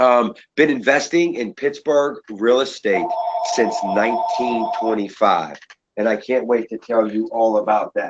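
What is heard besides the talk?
phone ringing in the background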